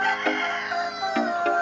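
Many gamefowl on a farm crow and cluck over a steady barnyard bed, with sharp short calls breaking in a few times and no voices.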